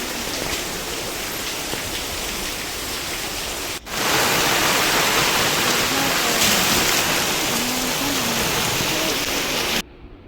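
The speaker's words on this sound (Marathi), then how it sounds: "मस्त असा पाऊससारखा येत जात राहतो आहे, जो मध्येच येतो आहे मध्येच थांबतो आहे" Unseasonal rain falls steadily in a village as a continuous close hiss that jumps louder partway through and cuts out at the end, with faint voices underneath.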